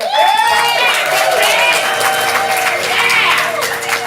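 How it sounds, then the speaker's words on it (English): Loud crowd noise at a ComedySportz improv comedy show, with cheering and some clapping, voices shouting over a steady roar that lasts the whole stretch. "Let's send them out with some applause"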